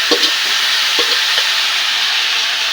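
Fish and potatoes cooking in a pot over a clay stove at home, giving a steady, close sizzling hiss with a few soft clinks of a utensil scattered through it.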